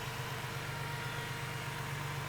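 A car engine idles steadily after switching into closed-loop fuel control, a low, even hum with a faint constant drone that continues unchanged and close by, with no talking.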